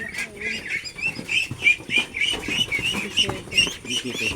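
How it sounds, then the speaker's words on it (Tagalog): A box full of newly bought duckling chicks, about thirty-one young ducks, peeping continuously in shrill, rapid, overlapping cheeps close by, with steady chirping across the whole stretch. "nailagay na sa kahon ang lahat ng mga itik na nabili natin"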